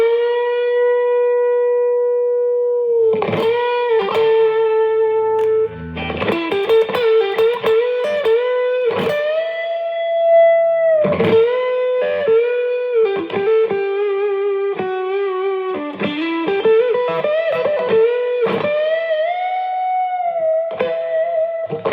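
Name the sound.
guitar lead through compressor and tube screamer overdrive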